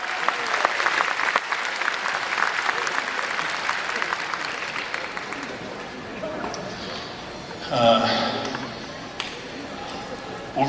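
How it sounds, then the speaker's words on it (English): An audience at an RCMP police dog show at Westerner Days claps loudly, with the applause fading over several seconds as a voice speaks near the end. "Big round of applause."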